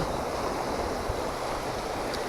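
Continuous broad wash of surf, waves rushing steadily with no pauses and no voices.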